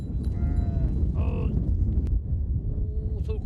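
Cattle in a Jordanian desert village low and moo a few times, with drawn-out harmonic calls over a steady low rumble of herd and background noise, and faint voices around them.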